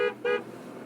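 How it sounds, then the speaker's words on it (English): Two short honks from a truck horn, the first brief and the second slightly longer, sounding close and fairly loud before fading into faint road rumble. "You guys didn't see it, that's why I honked."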